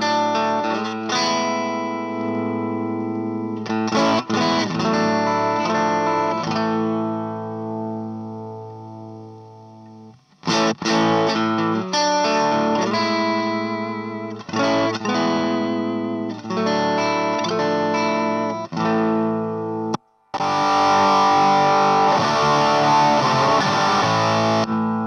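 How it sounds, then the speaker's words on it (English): Electric guitar played through a vintage Dallas Rangemaster treble booster, giving a fat, distorted tone in loud sustained chords and riffs that cut off into short breaks, with no talking. "So now I'm connected to the treble booster directly again."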